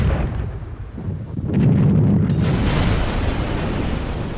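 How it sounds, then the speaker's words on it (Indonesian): A tank's main cannon fires once, a heavy deep boom that rolls on into a long, loud rumbling tail. "Bang Sen, itu meriam utama tank."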